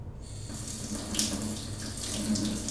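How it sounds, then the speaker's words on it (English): Water from a kitchen sink tap runs steadily over the exposed roots of a dendrobium orchid keiki, a close, continuous splashing rush with no talking. "I'm just running the roots under the water for a bit"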